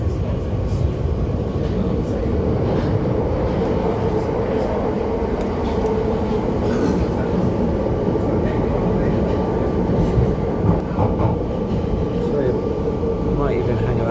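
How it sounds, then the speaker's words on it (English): A London Underground Piccadilly line train rides along with a steady, loud low rumble and rattle that never lets up, heard from inside the carriage with a voice talking over it. "On the London Underground, this is not the Elizabeth line either. This is like the Piccadilly is one of the older lines"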